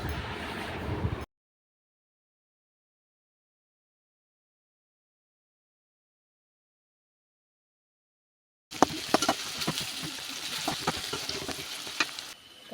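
Onions frying in oil in a pan until golden, a steady crackling sizzle for about a second, then a long stretch of silence before the close, busy frying noise returns with stirring clicks.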